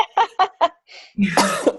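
A short burst of several quick coughs, followed by a breathy exhale and a rougher, throaty cough-like sound, close and fairly loud.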